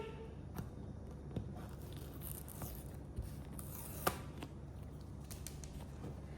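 Plastic wrapping being peeled off an iPhone 17 Pro Max box, heard up close as soft crinkling and rubbing with a few sharper tearing snaps, fairly quiet and steady throughout.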